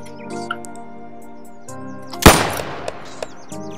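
A single loud, sharp shotgun blast rings out in a Roblox roleplay game over quiet background game sounds and faint chirps, followed by a few small clicks.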